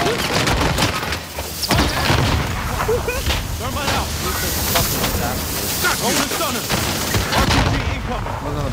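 Dense, continuous gunfire and booming blasts from a military shooter video game fill the scene, with volleys of shots layered over steady battle noise from start to finish.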